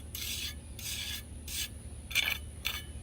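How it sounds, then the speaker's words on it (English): Masonry trowel drawn over wet concrete in a stone pathway mold, gritty with small rocks, giving five steady rasping scrapes in a regular rhythm, close and moderately loud, with no talking. "If you have a masonry trowel, you can use it to get a lot smoother"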